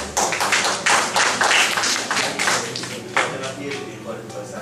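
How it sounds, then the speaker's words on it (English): Audience at a 2015 college guest lecture on goal setting breaks into applause, a dense wash of clapping that swells and then tapers, mixed with voices. "Give them a round of applause"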